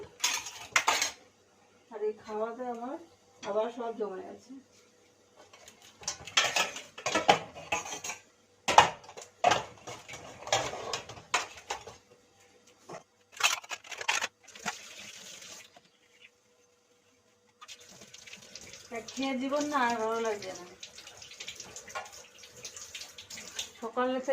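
Dishes, pots and cutlery are washed at a sink, including the pot used for cooking curry, with running tap water. Metal clinks and clatters come in close, irregular bursts, and someone talks in between.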